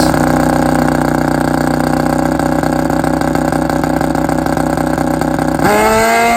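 A Kawasaki ZRX drag racing motorcycle on a drag strip runs at a constant high-pitched engine howl, then the pitch rises sharply near the end as it revs at full throttle.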